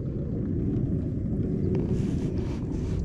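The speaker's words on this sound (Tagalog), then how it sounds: "Lakas kasi ng hangin eh." Steady, strong wind buffets the microphone beside a flooded waterway during a typhoon, a continuous low roaring rumble with no talk over it.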